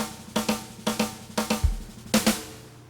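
Programmed drum pattern from a piano roll, grouping triplets and sixteenth notes into sharp hits with a deep kick near the middle, close and alone, ending in a short pause.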